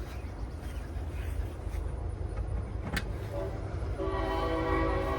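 A train passes beside a wigwam-style campsite by the tracks, its rumble steady throughout, with a brief horn blast near the middle and a sustained horn tone building toward the end, and faint voices in the background.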